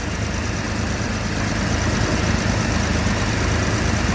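A 1973 Jaguar XJ6 engine idles steadily just after a cold start, a dense, even low rumble with constant vibration, close and loud throughout with no talk.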